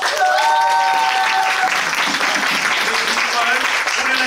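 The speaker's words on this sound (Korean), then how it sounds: "박수 한번 주세요." A loud, dense burst of audience applause at a live Korean performance event, clapping hands blended with crowd noise, while an amplified voice and some tonal sound run over the opening part.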